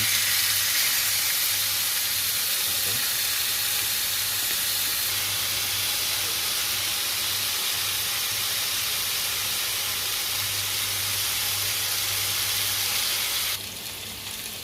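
Garlic steak sears in a very hot pan, giving off a loud, steady sizzling hiss that stays constant throughout and eases slightly near the end.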